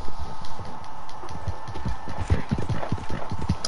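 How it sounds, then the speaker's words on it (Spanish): Horse hooves clip-clop in a quick, steady rhythm in Red Dead Redemption 2, close and fairly loud over a low background hum. "Qué feo caballo traes. Pero es rápido, ¿eh?"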